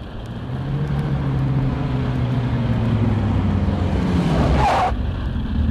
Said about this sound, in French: Oh Seigneur, quelle circulation!